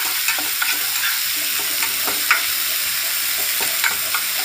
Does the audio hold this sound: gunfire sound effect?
no